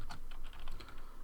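A command is typed on a computer keyboard for a Raspberry Pi 3 Minecraft server setup, producing quick, close, evenly spaced key clicks.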